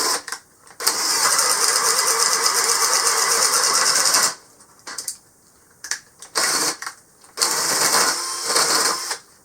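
A Hyper Tough 3/8-inch-chuck drill drives a 1-inch speed bit into regular lumber, first with a loud, steady, close whine for about four seconds, then with a series of short, stuttering bursts as it struggles through the wood.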